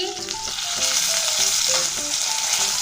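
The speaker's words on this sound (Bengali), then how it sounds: "তেলটা গরম হয়ে গিয়েছে এখানে আছে বড় সাইজের বড় সাইজের কই মাছ দিয়ে দিচ্ছি" Large koi fish fry in hot oil with a loud, steady sizzle that crackles continuously. Music plays underneath and there is no talking.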